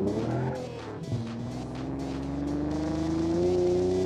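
A car engine in the BeamNG Drive driving game revs and drones loudly, its pitch climbing steadily as the car accelerates, with a brief tire scrape partway through.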